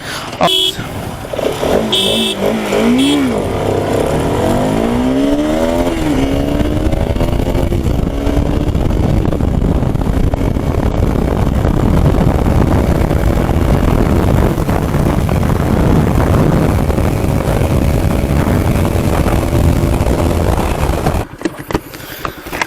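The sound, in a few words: Bajaj RS 200 and Yamaha R15 V4 motorcycles drag racing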